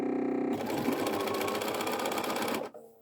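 A sewing machine runs a quarter-inch seam down the length of fabric. It sounds as one loud, close, continuous whir that starts abruptly after a short pause and stops just before the end.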